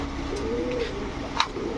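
A Golla pigeon, a red-eyed male Rajgolla, coos softly in a low, drawn-out call, with a brief sharper sound near the end against steady background noise.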